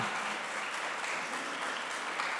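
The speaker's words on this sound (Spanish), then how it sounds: "Dele un aplauso al Señor." A church congregation applauds for the Lord, dense sustained clapping from many hands filling a hall at steady loudness, with no pause from start to finish.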